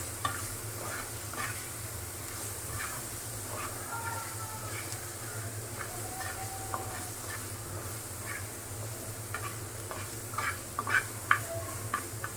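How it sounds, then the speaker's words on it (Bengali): Banana stem frying with turmeric and prawns in a pan, a steady close sizzle under scattered clicks and stirring scrapes, with faint voices now and then in the background. "এটা এখন ভালো করে ভেজে নেই"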